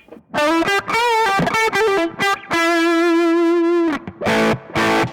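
Electric guitar with a Plus DS distortion effect placed behind the amplifier in a Kemper Profiling Amp, playing loud distorted notes and a long held tone with brief pauses, heard alone and close.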